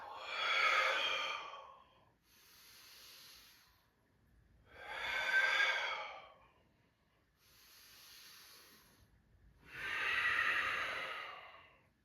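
Slow, deep breathing during a gentle upper-body yoga session: three long, loud exhales alternate with quieter, airy inhales, close and steady, with no talking.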